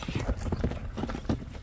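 A racing horse galloping fast, with rapid rhythmic hoofbeats thudding close by in a steady pattern throughout, with faint voices in the background.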